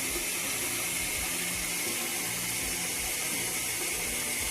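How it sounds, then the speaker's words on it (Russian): Steady, hissing rush of water pouring into a metal samovar, continuous and close, with faint mechanical clicks underneath and no voices. "Заливаю сюда воды."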